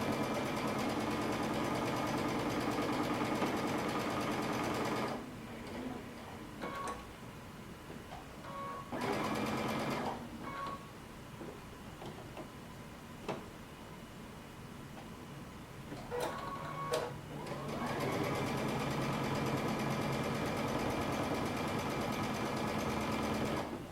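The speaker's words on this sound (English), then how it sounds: "we're going to sew some top stitching all the way around" Sewing machine top stitching around a cape, a steady fast whir running in long bursts with pauses between, fairly quiet and close with no voices.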